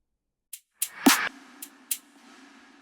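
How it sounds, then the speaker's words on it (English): A handful of crisp drum hits, a sharp snap and a deeper thump with a short ringing tail, spaced irregularly and heard alone. "a bunch of regular drums, you know, that sound like this"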